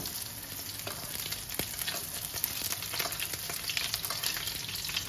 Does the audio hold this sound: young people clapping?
no